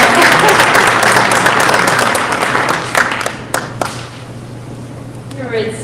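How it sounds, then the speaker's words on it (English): Applause from a crowd at a school board meeting, loud steady clapping that fades after a few seconds into scattered claps and quieter room noise. "Give her a round of applause."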